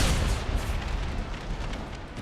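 Mines explode in the Empire: Total War Brothers vs. Brothers mod, a rumbling burst of low booms and crackling noise in a dense, continuous battle din.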